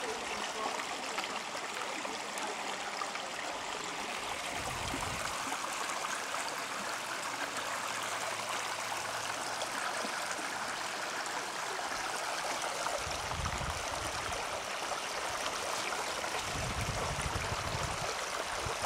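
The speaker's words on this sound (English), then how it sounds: "Sound of a brook is always nice." Walker Brook in Wilmot, New Hampshire, flows steadily with continuous rushing, babbling water, close and even throughout, with a few low thumps underneath and no voices.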